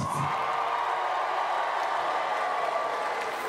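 Comedy concert audience in Cincinnati cheering, whooping and clapping in a steady, dense roar that lasts throughout.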